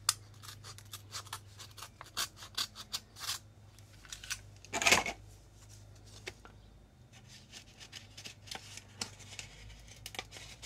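A parcel is opened carefully: soft, quiet paper rustling and scratching throughout, with one louder tearing burst near the middle. No one speaks.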